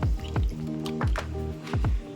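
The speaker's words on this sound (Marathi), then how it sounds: "उसळ तीन ते चार पाण्याने स्वच्छ धुवून घ्यायची आहे" Wet squishing and sloshing in rhythmic bursts as hands swirl and rub sprouted beans in water, close and fairly loud.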